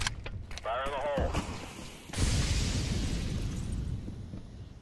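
CS:GO grenade blast during a competitive college match, a loud boom with a long rumbling tail, preceded by brief in-game clatter and a short voice.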